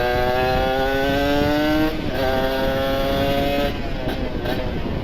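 Kawasaki Ninja RR two-stroke motorcycle engine revving close by, a loud sustained rising whine that dips and climbs again in short throttle blips.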